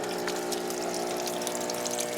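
Hot water running steadily into rinse tubs, a constant even gush with a faint pump hum and no voices.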